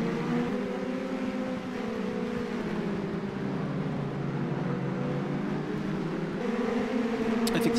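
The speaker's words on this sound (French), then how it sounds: "Et bien, du coup, les 3 premières voitures sont passées." Formula Renault 2.0 race cars at the Croix-en-Ternois circuit, a steady blended engine drone that holds throughout with shifting pitch, then a fresh rising whine near the end as another car approaches.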